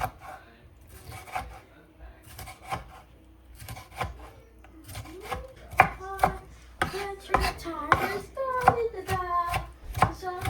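Rhythmic knife chopping through fish on a cutting board, sharp repeated cuts growing faster and louder, with faint household noise and distant voices in the background.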